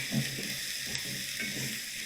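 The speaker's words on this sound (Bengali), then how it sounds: "এগুলো একটু ভাজা ভাজা করতে হবে।" Chopped vegetables fry in butter in a pan for eggless Maggi noodles, giving a steady, soft sizzle with faint stirring scrapes throughout, close and fairly quiet with no talking.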